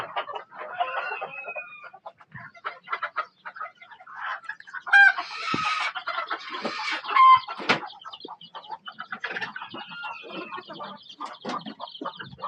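Hen with her chicks clucking and peeping in a farmyard, a steady run of soft clucks and high chirps at close range with a couple of louder bursts, no talking.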